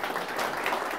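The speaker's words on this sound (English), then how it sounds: "let's give one more round of applause for everybody on this project" Audience at an urban redevelopment project event gives the project team a steady round of applause, dense continuous clapping from a crowd without voices.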